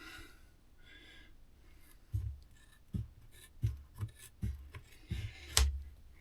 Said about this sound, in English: I take my scissors